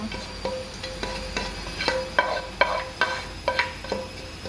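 Onions and garlic sizzle in a pan for homemade arancini, a soft, continuous fry broken by a regular rhythm of sharp stirring scrapes and clicks.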